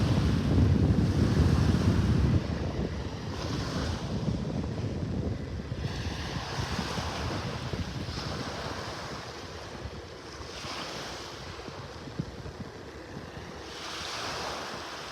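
Steady surf and gusting wind at a beach in North Naples, Florida, early morning, with a constant rushing wash and wind buffeting the microphone. The roar is heaviest at the start and then settles into a continuous broadband hiss.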